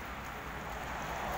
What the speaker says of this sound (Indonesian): ini gerimis guys, walaupun gerimis tetap kerja.